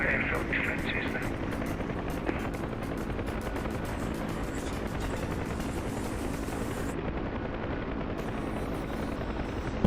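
A helicopter in the flight simulator DCS World makes a steady, droning rotor chop that runs throughout, with a faint background hum.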